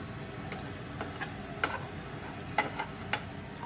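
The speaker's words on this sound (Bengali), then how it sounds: "এবার চিকেনটা ভেজে নেওয়া হচ্ছে।" Chicken pieces frying in a pan for fried rice, giving a soft, steady sizzle with occasional light clicks of a utensil stirring, close and fairly quiet, with no voices.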